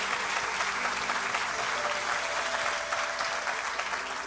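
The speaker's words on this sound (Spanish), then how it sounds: "Denle un aplauso bien fuerte a nuestro Dios." A church congregation applauds loudly and steadily throughout, a dense wash of clapping from a large crowd that holds at the same level with no pause.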